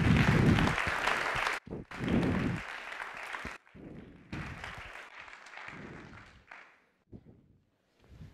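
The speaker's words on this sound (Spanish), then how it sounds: "les damos un aplauso a los 10, 12 o 15 que son" Audience applause at a student automotive engineering presentation on a Formula-style competition car, a dense crackling clapping that swells, breaks off briefly, resumes in bursts and fades to scattered claps by the end.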